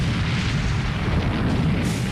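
The battleship Bismarck's heavy naval guns fire a salvo, a loud, deep, sustained rumbling roar that fills the whole stretch without letting up.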